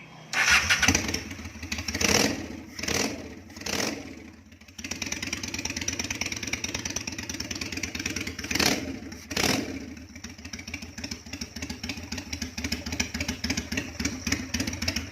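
A 1994 Honda Steed 400 bobber motorcycle's starter cranks in several short bursts before the engine catches, then settles into a rumbling idle with a couple of throttle blips.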